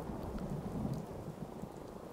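Steady rain with a low thunder rumble in a video game, a soft continuous downpour with no voices.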